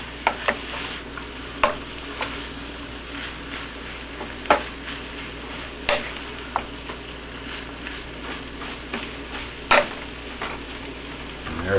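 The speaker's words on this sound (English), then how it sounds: "most recipes will tell you to break the rice up as you're frying it" Rice fries in a pan with a steady sizzle, punctuated by sharp scrapes and taps as it is stirred and broken up, close and clear with no talking.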